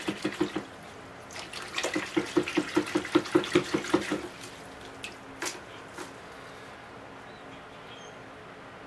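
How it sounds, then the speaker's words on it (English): A quick run of small, crisp water drips and splashes as native maple bonsai roots are washed in a greenhouse, rhythmic and close, tapering off into a few scattered drops and quiet. "Ready to wash the roots now."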